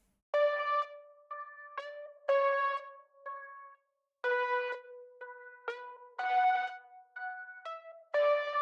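A bright synth melody of short and held notes, rich in harmonics, shaped with EQ, reverb and flanger, with a spacious reverb tail and a subtle sweeping, phasey shimmer.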